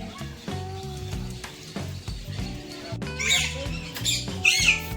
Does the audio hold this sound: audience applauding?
no